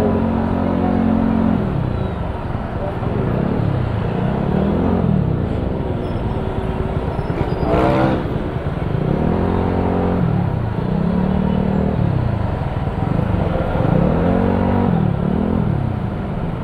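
Road traffic near SM Center Imus in the Philippines, with cars passing and engines rising and falling in repeated swells, a steady close rumble filling the scene with no talk.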